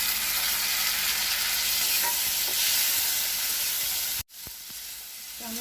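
Chopped tomatoes frying with onions and being stirred, a loud continuous sizzle with scraping stirs, cutting off abruptly near the end before a few quieter clicks and taps.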